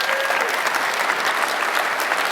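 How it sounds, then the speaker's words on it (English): Dense, even applause from a conference audience at a climate keynote lunch, a continuous wash of many hands clapping at close range. "Let's give him a round of applause."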